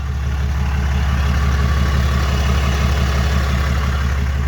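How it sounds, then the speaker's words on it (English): A Cummins diesel truck engine idles up close, giving a loud, steady, low rumble with an even, rapid pulse throughout and no voices. "That's what the engine sounds like."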